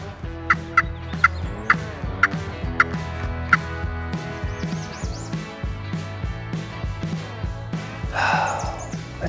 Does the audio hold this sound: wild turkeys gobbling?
yes